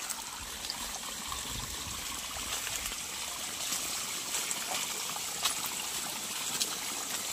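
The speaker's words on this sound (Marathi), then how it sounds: "आणि इकडं चालू आहे गव्हावर पाणी" Irrigation water running onto a wheat field, a soft continuous trickling stream flow heard close, steady and low in level without speech.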